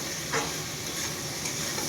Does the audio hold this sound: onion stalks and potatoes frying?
yes